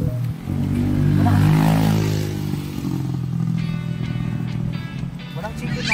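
A motorcycle passes close by, its engine swelling loud and then fading, while people talk nearby.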